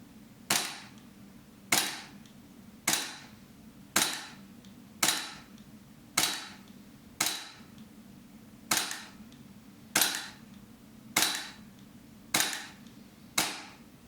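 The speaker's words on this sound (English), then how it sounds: "I might just load up another mag and just shoot 12 more" Twelve sharp shots from a P320/M17 gas blowback gel blaster crack out at an even pace roughly a second apart, each a loud close snap with a short decay, no talking.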